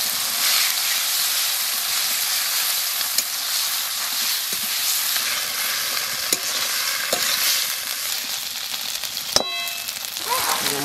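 Ginger-garlic paste with green chilli fries in hot oil for a cabbage curry, a steady loud sizzle with occasional scrapes and clinks of a stirring utensil against the pan.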